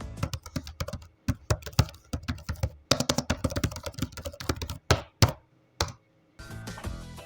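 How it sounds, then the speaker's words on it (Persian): Computer keyboard typing up close, rapid clusters of crisp key clacks with brief pauses between bursts, no voices. "من الان کیبوردم هست با صدای کیبورد آرامش بخشه"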